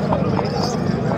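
Horses' hooves clip-clopping at a horse market in Aminpur Bangla where desi horses are for sale, a brief run of soft hoof beats under surrounding crowd chatter.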